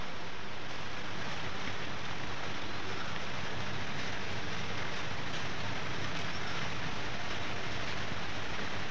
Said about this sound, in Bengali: তো চলেন আপনাদেরকে একটু বৃষ্টি দেখেন।